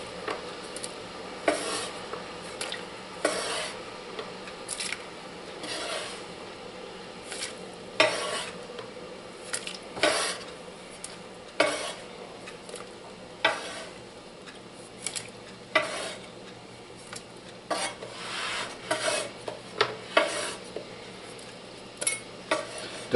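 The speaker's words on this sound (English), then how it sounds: "So I've got just a simmer going" Chicken and dumplings cooking in a pot over a gentle simmer for Grandma Durham's Southern recipe, with a steady low bubbling and frequent sharp spoon clinks and scrapes against the pot.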